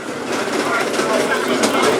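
A subway train rumbles steadily along the express track, heard from the cab as a loud continuous roar with faint rail clatter, and a voice talks in the background.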